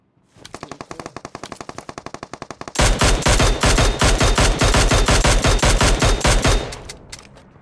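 Sustained automatic gunfire from the mobile game PUBG Mobile: a lighter, rapid stream of shots is followed by a louder, heavier string of bursts that fades at the end. Dense, close and with no talking.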